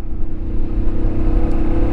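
A SINNIS Terrain 125 motorcycle engine pulls in sixth gear at low revs around 23 mph, a steady close drone with a throbbing exhaust note that holds even throughout.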